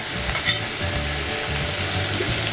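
Ground coriander, cumin, chilli and turmeric fry in oil over medium heat for hilsa biryani, giving a steady close sizzle with soft stirring scrapes throughout and no talking.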